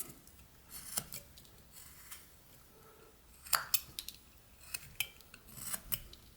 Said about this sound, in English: let's put a stop cut in defining the bottom part of his hand and kind of cut up to that